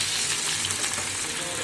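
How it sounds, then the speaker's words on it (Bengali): Green kebab meat, marinated and pressure-cooked, frying in hot oil, a loud continuous close sizzle with a steady crackle throughout. "এখানে তেলে আমি ছেড়ে দিচ্ছি।"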